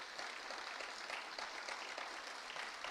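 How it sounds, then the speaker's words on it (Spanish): Applause from a church congregation during a service sermon, a steady dense clatter of many hands clapping continuously, fairly distant and even in loudness throughout, with no speech over it. "eso se merece un aplauso"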